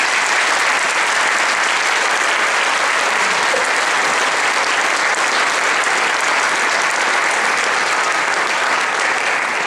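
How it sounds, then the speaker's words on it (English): A school Christmas concert audience breaks into loud, sustained applause. The dense, even roar of many hands clapping continues without a break for nearly ten seconds. "Please give all of these folks a round of applause for them."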